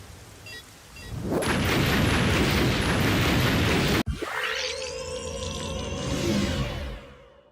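A bomb detonating in a video game: a loud, sustained roaring blast lasting about three seconds, then an abrupt cut into a whooshing, sweeping effect that slowly fades.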